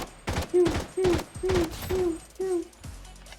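Gunfire in the mobile shooter Blood Strike: about six sharp shots in a steady rhythm, each with a short ringing tail, loud and close, with no one talking over them.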